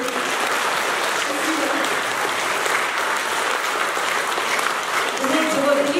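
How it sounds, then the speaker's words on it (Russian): Steady, dense audience applause fills a folk concert hall of accordion and bayan songs, a continuous wash of many hands clapping at even volume for several seconds, with no voices on top. "здесь должны быть аплодисменты"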